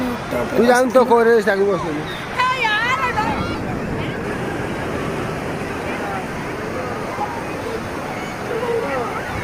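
Sea waves break at the seashore in a steady, broadband wash of surf that fills the whole clip, with people talking and crowd chatter over the first few seconds.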